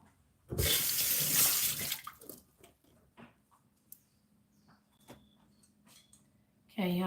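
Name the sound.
water running in kitchen sink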